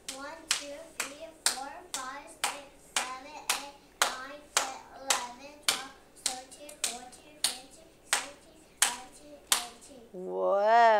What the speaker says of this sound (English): clap this many times.